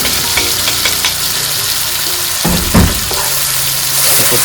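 Spice paste for spicy sweet-and-sour green mussels stir-frying in a pan, with a steady close sizzle and repeated scraping, clattering stirs from a utensil.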